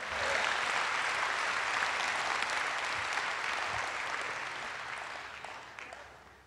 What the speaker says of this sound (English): Oh, you gotta clap right there.